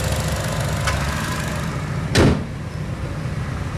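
The small turbocharged engine of a 2015 Buick Encore leather FWD compact SUV idles with a steady, close, even hum, broken by one brief thump midway through.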